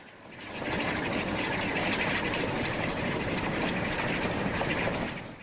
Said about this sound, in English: I'm pretty sure that train just went straight through without stopping.